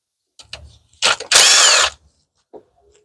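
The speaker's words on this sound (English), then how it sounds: "Now let's take our bolts out" Bolts being backed out of the valve cover on a 2016 Nissan Rogue with a leaking cover, several short ratcheting power-tool bursts and one longer loud run, close and alone with quiet gaps between.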